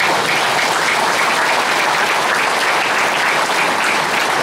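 An audience at the founding ceremony of a civic welfare forum claps steadily, a dense, loud wash of applause that holds evenly from start to finish.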